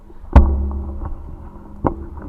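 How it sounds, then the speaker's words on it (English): Microphone being adjusted during a winter storm weather broadcast: two dull thumps of handling noise with a low rumble between them, close to the mic, without speech. "Sorry, adjusting the mic. That's the noise you hear."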